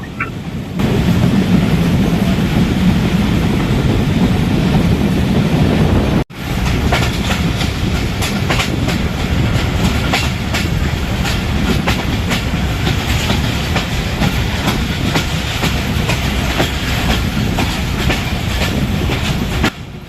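The Barendra passenger train rolls toward Abdulpur railway junction past the Karimpur level crossing, a loud, steady rumble with rhythmic clickety-clack from the wheels that drops out for a moment and then continues strongly, heard from on board.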